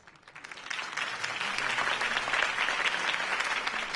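A crowd in a Batman video game applauds after Harvey Dent's campaign speech, clapping that swells in from quiet to a full, steady roar of many hands and stays moderately distant.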